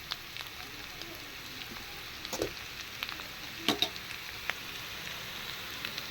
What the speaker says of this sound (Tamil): எண்ணெயில் நல்லா பரட்டியாச்சு. நல்லா வேகட்டும்.